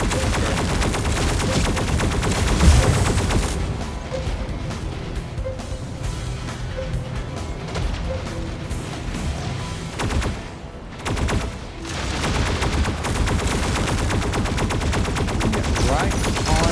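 A fusion cannon fires in a video game, a long, loud run of heavy rapid blasts with gunfire-like bursts, a brief dip near the middle before the barrage resumes.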